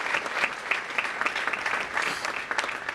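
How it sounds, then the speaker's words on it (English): Audience applause at a mayor's breakfast event, dense steady clapping from a crowd filling the room for the full length, fairly loud and even with no pauses. "please give a round of applause to them"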